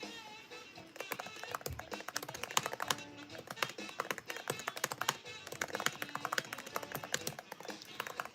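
Rapid typing of a note on a computer keyboard, dense irregular clicking that runs for about eight seconds close to the mic, with a brief lull early on and no talking.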